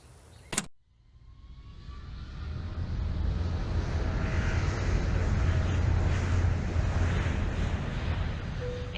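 A steady airplane cabin roar in flight from a Nancy Drew game, with a sharp click at the start and then a broad, even rush of engine and air noise that swells slightly and holds at a constant, moderately loud level.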